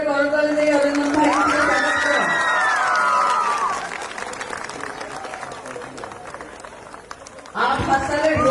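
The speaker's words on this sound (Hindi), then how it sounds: "जोरदार गोटे करताली दे अरिंदम भाई" Applause and cheering from an audience at a stage event, a loud sustained clapping crowd that thins out midway before a voice returns over the hall at the end.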